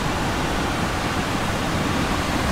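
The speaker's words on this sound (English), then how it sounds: "An authentic waterfall." Steady broadband roar of an outdoor waterfall in downtown Hilo, Hawaii, heard close and loud with an unbroken rushing wash and no voices.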